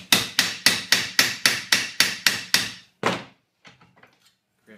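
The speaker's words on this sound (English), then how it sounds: "and hammer to straighten it up" Rapid series of about ten sharp metallic hammer blows on a steel bracket flange clamped in a vise, evenly spaced and loud, then one final strike followed by a few faint clinks.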